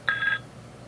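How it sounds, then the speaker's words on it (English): A phone gives one short electronic ring burst, a clear tonal chirp of about a third of a second, close and fairly loud, followed by quiet. "You go away. Stop ringing."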